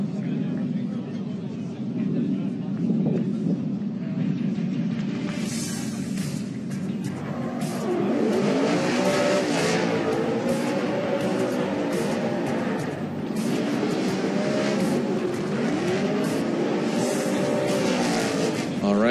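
A Chevrolet Camaro drift car screams around the Formula Drift Long Beach course, its engine rising and falling through revs and shifts, under a commentator's continuous talk and a roaring crowd.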